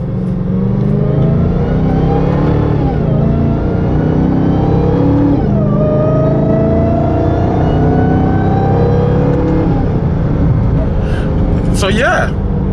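Dodge Hellcat with its stock intake accelerating under partial throttle, a loud, close engine roar with rising supercharger whine that climbs in repeated pulls, dips briefly between gears, and holds steady throughout.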